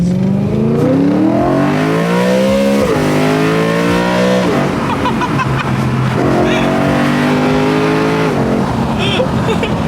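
A BMW engine fitted with open velocity stacks revs hard and climbs through rising gears, loud and close, with a raspy intake howl, brief lifts between pulls and faint voices underneath.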